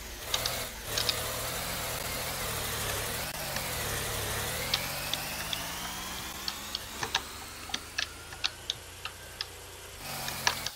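A car engine hums steadily while driving in the Roblox video game, a continuous drone with a slowly shifting pitch, joined by a run of regular sharp ticks in the second half, with no talking.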